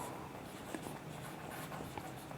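Pen or chalk writing during a Hindi-language computer lecture on memory devices, a faint continuous scratching with a few light taps, close but soft over a steady room hiss, with no talking.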